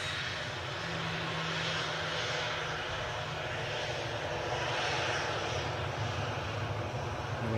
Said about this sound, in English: we have a Jet 2 departure shaping up behind it to Larnaca